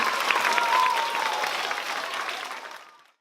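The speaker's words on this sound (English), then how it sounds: "Let's give them one more round of applause because they did an amazing job." Dense audience applause after a student presentation, a broad sustained wash of many hands clapping that gradually dies away toward the end.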